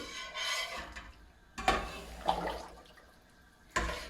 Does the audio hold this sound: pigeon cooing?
no